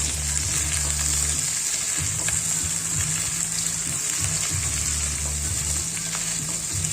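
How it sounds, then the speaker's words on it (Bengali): Chopped onion and capsicum sauté with cumin in a hot wok for chili chicken, giving a steady, close, loud sizzle that runs the whole stretch with no talking. "কড়াইতে জিরে ফোড়ন দিয়ে পেঁয়াজ কুচিগুলো দিয়ে দেবো। তারপর নাড়াচাড়া করে তার মধ্যে দিয়ে দেবো ক্যাপসিকাম"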